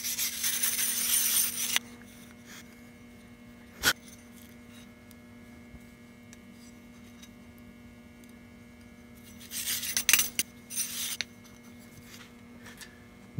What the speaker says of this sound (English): use a wire brush and it should just come right off